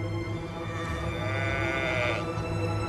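A sheep bleats in a drawn-out, wavering call close by over a steady pastoral background from a flock.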